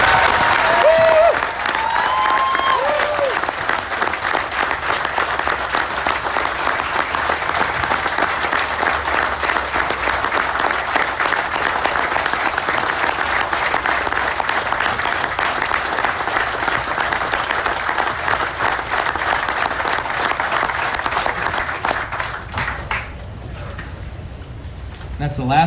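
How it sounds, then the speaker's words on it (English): Sustained crowd applause at a sprint car racing drivers meeting for a retiring flagman, dense and loud like rain, with a few faint voices and cheers mixed in before it fades near the end. "I'd ask that you all give him a round of applause for a great career."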